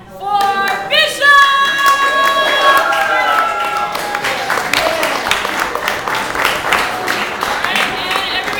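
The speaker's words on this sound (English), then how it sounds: "Put your hands like this, because we're about to clap a lot for Bishop!" An audience claps for Bishop at a Francis Parker improv show, the steady applause rising after a brief vocal tone and running on with scattered voices and cheers mixed in.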